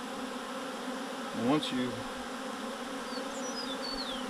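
A huge swarm of honey bees hums as a steady, dense drone throughout, with a brief voice speaking over it midway.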